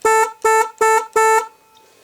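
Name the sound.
vehicle horn honking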